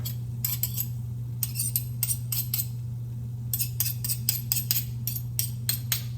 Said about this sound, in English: I also dropped my spoon in there again, so I'm going to dig that out with a butter knife